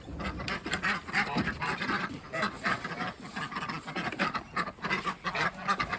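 Ducks quack continuously at close range, a dense, overlapping flock chatter of honking calls with no pauses.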